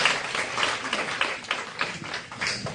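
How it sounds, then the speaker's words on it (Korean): A seated audience at a product training session claps together, a dense patter of hands that holds steady and fairly loud for a few seconds. "박수 한번 부탁드립니다."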